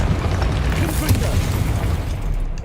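Confringo fire spell bursting in the Hogwarts Legacy video game, a dense, sustained rumbling explosion with heavy low-end boom that fills the whole moment at steady loudness.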